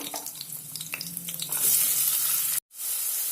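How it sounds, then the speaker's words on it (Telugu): Green chillies and onions frying in oil in a pan for mutton paya: a close, steady sizzle with stirring scrapes that rises into a louder hiss, then breaks off briefly before resuming. "కొంచెం పచ్చిమిరపకాయలు వేస్తున్నాను రెండు మూడు మళ్ళీ వేస్తా తర్వాత ఉల్లిపాయలండి"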